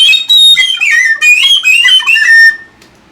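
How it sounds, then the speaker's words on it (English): A Clark Sweet Tone whistle, a low-breath indoor whistle, plays a short melody of about five bright, clear notes, close and loud, then falls silent. "This is a very, very low breath whistle, a very quiet, indoor, enjoyable little thing."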